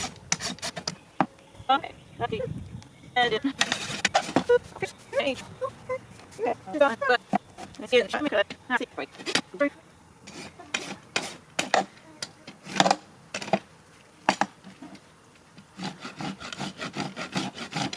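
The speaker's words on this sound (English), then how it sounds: "I find it easier to pull this rasp towards me" A hand rasp files a horse's hoof during a natural trim, giving repeated rough scraping strokes in irregular bursts, close up, with a voice speaking briefly between the strokes.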